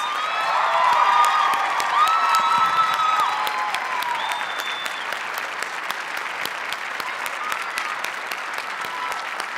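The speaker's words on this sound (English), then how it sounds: "Can we give them another round of applause?" Audience applause at a nurse pinning ceremony, a loud sustained roar of clapping with cheers and whoops rising early on, then settling into steady clapping that continues to the end.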